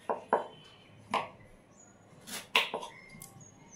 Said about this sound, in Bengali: এবারে টুকরো টুকরো করে কেটে নেব